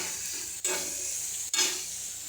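Green chilies and curry leaves sizzle steadily in hot oil for dal curry, a continuous close hiss with two brief stirring bursts and no talk.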